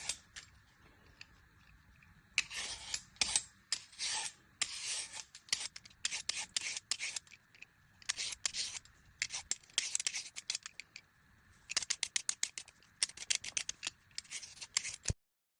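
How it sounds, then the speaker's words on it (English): A kitchen knife dices vegetables, likely carrots, on a cutting board. It makes bursts of quick, crisp, close chopping strokes in uneven runs with short pauses between them. "Then you'll finally dice these."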